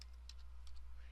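Computer keyboard typing a short number, a few quick soft key clicks over a steady low electrical hum.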